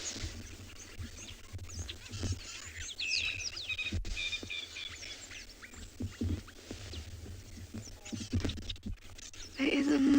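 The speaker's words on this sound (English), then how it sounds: "There is a multitude of birds here." Many birds call at sunrise in the African bush, crested barbet among them, a busy overlapping chorus of chirps and trills at varying distances, with bursts of wind or rustle and a brief voice near the end.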